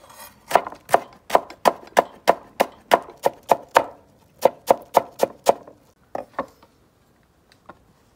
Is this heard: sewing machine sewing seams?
no